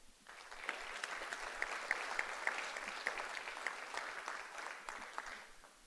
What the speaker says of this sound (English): let's give one more hand of applause for our NET graduates